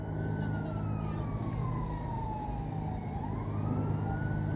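A wailing siren sweeps slowly down and back up in pitch, loud and steady over a deep engine rumble, with no voices.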